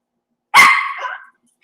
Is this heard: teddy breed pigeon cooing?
no